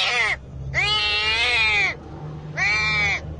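Three high, insistent kitten meows, the middle one longest, close and loud over faint background hum, inside a construction workers' container.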